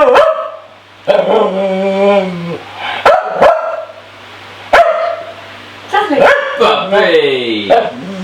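A puppy begs for human food with a run of sharp barks, yips and drawn-out whines, close and loud, broken by short pauses; the sounds come in irregular bursts throughout.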